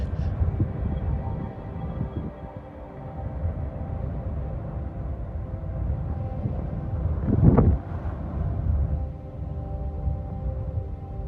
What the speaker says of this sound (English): this cold Nebraska wind